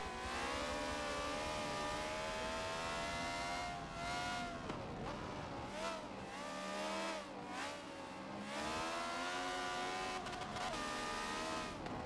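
Race car engines in Forza 7 at Virginia International Raceway, including a German-made Dunkel Roots D8 GTO, a loud continuous engine whine rising and falling through gear changes and revs, with dips as cars brake and accelerate.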